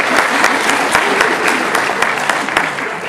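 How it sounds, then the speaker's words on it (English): An audience at a Comic Con panel applauds, a dense, steady patter of many hands clapping at close range, with brief voices mixed into it. "Can we just get a round of applause for that?"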